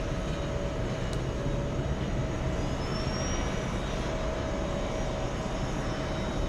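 JetBlue jet airliner taking off at JFK airport, heard as a faint, distant, steady engine roar with an even broadband wash throughout.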